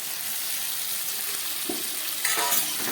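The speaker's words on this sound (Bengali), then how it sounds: "পেঁয়াজ টমেটোর সঙ্গে আলু চিংড়ি মাছটা একটু ভেজে নিলাম।" Prawns and potatoes frying in a pan with onion, tomato and spices, a steady close sizzle with occasional stirring scrapes and light utensil clinks, alone with no talk.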